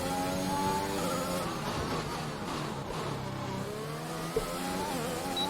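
An F1 car accelerates in F1 2021 at the Azerbaijan Grand Prix, its engine note climbing steadily through the gears in a continuous, moderately loud whine with harmonics sweeping upward, free of talk.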